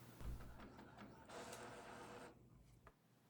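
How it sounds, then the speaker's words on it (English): A printer prints an image onto rigid media for a coffee mug, a close mechanical whirring and rubbing with a louder feed pass in the middle before it stops, with no talking. "click Print again to send the file to the printer."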